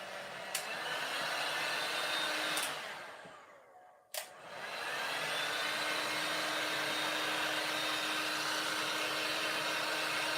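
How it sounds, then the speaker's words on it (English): A hair dryer heat-drying fabric-glued stuffed bunnies, a steady loud whir that briefly dips and cuts out for a moment partway through, then resumes evenly. "You do not have to heat dry them like this"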